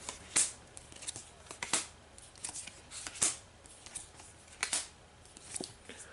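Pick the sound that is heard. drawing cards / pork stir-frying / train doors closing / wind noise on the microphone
drawing cards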